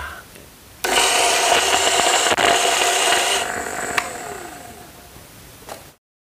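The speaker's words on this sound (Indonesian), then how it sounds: "giling ya dengan menggunakan grinder ini. Saya akan menggunakan yang paling halus ini ya" A coffee grinder at its finest setting grinds a batch of coffee beans, a loud, steady whirring grind that starts abruptly, eases slightly midway and cuts off after about five seconds.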